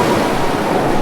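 Strong storm wind over a rough sea, a dense, unbroken roar of surf and gusts that stays loud and steady throughout, with no voices.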